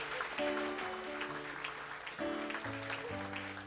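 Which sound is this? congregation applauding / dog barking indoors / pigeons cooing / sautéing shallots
congregation applauding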